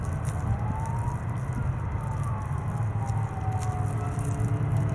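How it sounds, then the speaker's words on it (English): Faint sirens wail from far off, their rising and falling tones thin above a steady low rumble of background noise. "I've got some sirens in the background"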